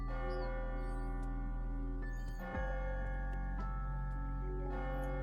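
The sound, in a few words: clock bell striking midnight in the AI: nirvanA Initiative video game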